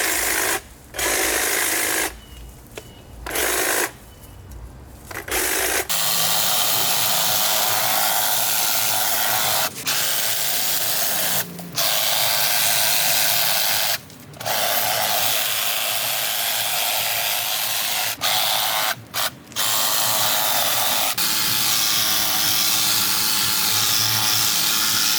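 A trimmer cuts back overgrown plants on a neglected property with a steady, loud buzzing drone, stopping briefly several times in short gaps before running on continuously for most of the stretch. No speech.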